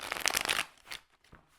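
A quick riffle of playing cards being shuffled, a brisk burst of flapping clicks followed by a few softer taps.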